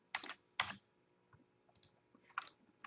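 Light plastic computer keyboard keys clicking in a few short, scattered bursts of typing, close and fairly quiet, with pauses between them.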